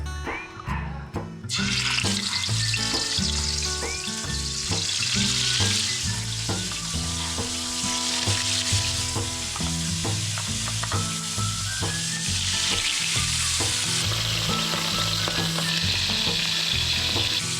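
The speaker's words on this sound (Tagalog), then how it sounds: "Habang nagpiprito tayo" Steady, loud sizzling of food frying in hot oil runs throughout, with a dense crackle and occasional clinks under a constant hiss.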